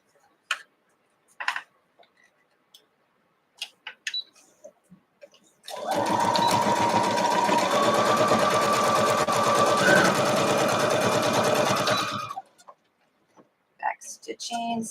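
A sewing machine stitches a quilt block seam in one steady, close burst of rapid mechanical chatter lasting several seconds, with quiet handling clicks and taps before and after.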